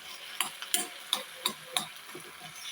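Tomatoes and onions sauté quietly in a pan, a soft sizzle under six or seven sharp scraping taps of a spoon against the pan, spaced roughly every third of a second to half second, close but low in level.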